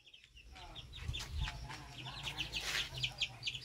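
Chickens cluck and chirp softly in a quiet coop converted from an old pig pen, several birds, including chicks, calling in short bursts close by.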